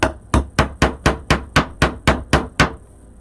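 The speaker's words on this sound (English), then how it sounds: "Oh, got to keep hammering it." Ten loud, close hammer blows in a steady, brisk rhythm drive a nail into a Christmas door hanger, each a sharp ringing whack, followed by quiet.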